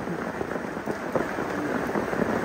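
Steady rain pours down outdoors, a dense close hiss of drops hitting surfaces with no voices.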